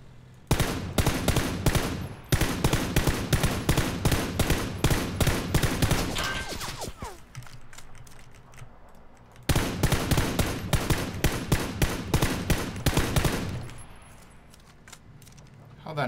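Rapid automatic gunfire in PUBG, two long bursts of evenly spaced shots, loud and close, separated by a few seconds of quieter ambience with faint distant clatter.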